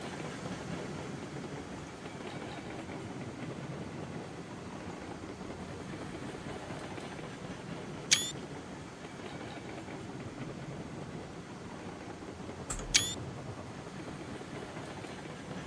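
A steam train rolls steadily along the tracks in the railroad video game RAILROADS Online, a continuous low rumble broken by two sharp, brief whistle-like squeals.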